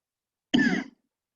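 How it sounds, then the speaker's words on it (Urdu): One short, close cough blending into a throat clear, a brief rough burst followed by silence. "میں تھوڑی سی کھانسی ہے"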